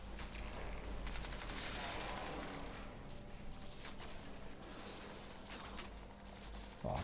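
Rapid bursts of automatic gunfire from a Crysis 2 firefight crackle steadily at moderate volume, with repeated shots layered over a constant battle din.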